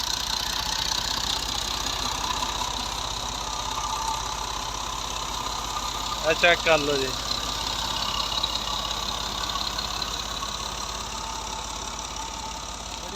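A Massey Ferguson 240 tractor engine idling steadily and evenly, close by, with a brief rise around the middle; someone speaks briefly.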